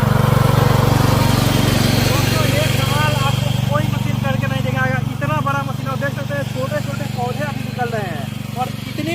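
A Bahubali 9.5 HP power tiller weeding a field runs with a loud, continuous low engine drone and steady mechanical chatter close by, while someone talks over it throughout.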